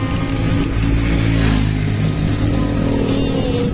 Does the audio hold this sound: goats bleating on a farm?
no